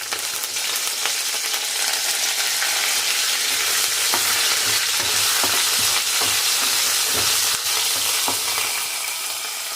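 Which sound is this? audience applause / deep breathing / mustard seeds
mustard seeds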